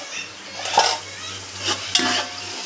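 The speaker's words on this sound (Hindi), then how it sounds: "थोड़ा इसको भूनूंगी" Meat and masala being fried and stirred in a pot for Sunday mutton biryani, a steady low sizzle with a few scraping stir strokes and clinks of a spoon against the pot, close by.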